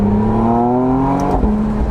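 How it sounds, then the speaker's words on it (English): A 2025 McLaren Artura Spider's exhaust rumbles with a low, steady engine drone that rises slightly in pitch, close and fairly loud, no talking. "the extra sounds of this exhaust"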